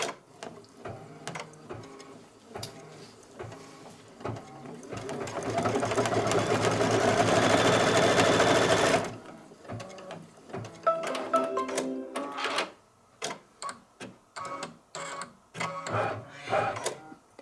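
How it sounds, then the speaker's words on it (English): A sewing machine stitches a placement line for black spiderweb fabric onto a Candy Corn quilt background backed with fusible woven. After a few handling clicks, one loud, steady run of about four seconds is followed by scattered clicks and rustles. "what it's going to do is stitch a placement line for the black"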